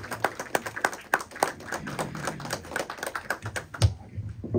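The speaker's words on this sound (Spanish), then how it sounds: "vamos a recibirlo con un fuerte aplauso" A church congregation claps to welcome Pastor Sergio Solórzano, a steady patter of many hands at moderate level that thins out near the end.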